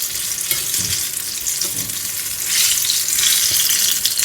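Banana fritters fry in a pan of oil with a loud, dense, continuous sizzle, close by, swelling slightly louder toward the end with occasional light stirring knocks.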